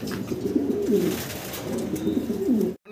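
Pigeons, fancy breeds kept for sale, coo steadily and close by in repeated low, throaty phrases, with no talk over them until a sudden cut at the end.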